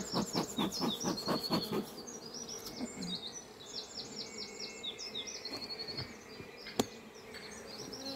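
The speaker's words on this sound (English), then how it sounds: "this hive is buzzing with bees" A dense, steady buzz of honeybees in an open hive hums throughout, with a few brief higher chirps and a sharp click near the end; no talking.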